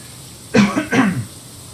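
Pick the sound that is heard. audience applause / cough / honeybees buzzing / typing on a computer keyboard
cough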